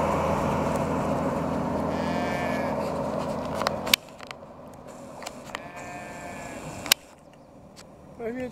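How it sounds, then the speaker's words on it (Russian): Sheep bleating repeatedly at an airfield during a garrison show with a ZIL-157 truck nearby, the wavering cries standing out over steady wind and engine rumble, with a couple of sharp knocks. "Овечки больше меня кричат."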